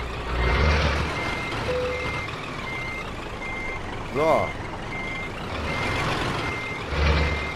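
A truck in Euro Truck Simulator 2 reverses while parking a trailer, its backup alarm giving steady, evenly spaced beeps over a low engine rumble, with a brief spoken word and a short hiss near the middle.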